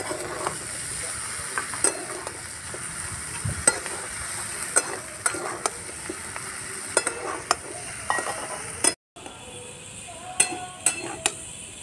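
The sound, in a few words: frying and stirring fish-oil curry in a pan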